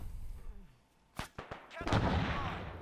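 Several sharp incoming gunfire impacts in the Arma 3 military shooter during a British rescue mission in a war with Iran, cracking in a quick irregular cluster before a heavier burst with a lingering rumble.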